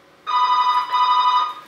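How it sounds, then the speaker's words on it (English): An electronic telephone ring sounds indoors in an apartment, a steady bright tone held for about half a second, a brief gap, then a second tone lasting about half a second, close and fairly loud with no voices. "Sorry about the phone."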